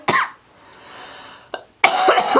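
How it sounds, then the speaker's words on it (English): A close, loud cough at the start, a short throat sound, then a harsher cough burst; no talking. "I still have this cough I'm getting over"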